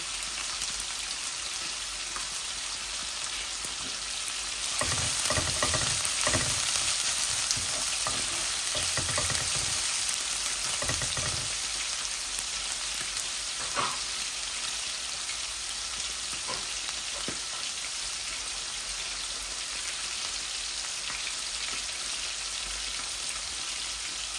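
A medium onion fries in hot oil with garlic already browned, giving a continuous soft sizzle, with a stretch of louder stirring scrapes and crackles partway through and a quieter hiss toward the end, no talking.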